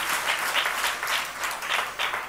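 A church congregation claps together in praise during a fasting prayer service, a brief wash of steady applause heard from a distance with no voices over it.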